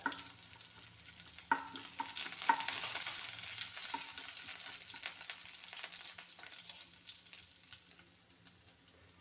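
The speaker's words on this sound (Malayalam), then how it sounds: "ഇനി ഇതിലേക്ക് നമ്മൾ അരിഞ്ഞു വെച്ചിരിക്കുന്ന മുളക് ഇട്ട് കൊടുത്താൽ വെളുത്തുള്ളി ഇഞ്ചി കൂടെ ഇട്ട് കൊടുത്ത് ഒന്ന് ഇളക്കിയെടുക്കുക" Chopped chili, garlic and ginger fry in a pan as they are stirred, a faint steady sizzle with a few sharp clinks of the spoon against the pan near the start, quiet and with no voices.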